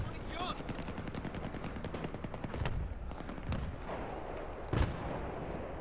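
Rapid gunfire in the Battlefield 3 multiplayer game on the Ziba Tower map, firing down from a high position, with a dense rattle of shots, occasional heavier bangs and a steady engine-like drone underneath, partly under a faint voice.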